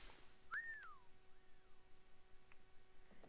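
A character in Assassin's Creed: Liberation gives a single rising-and-falling whistle, clear and fairly close. A fainter second whistle follows against a quiet in-game background.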